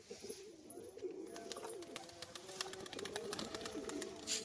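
A male white-and-green pigeon with yellow eyes coos softly several times in a row, fairly faint against light background noise.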